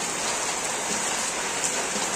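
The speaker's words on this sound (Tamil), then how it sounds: "மழை கொட்டு கொட்டுன்னு கொட்டிக்கிட்டு" Heavy rain pouring down steadily in Tiruchirappalli, a dense continuous hiss of drops on surfaces with no voices, even and unbroken throughout.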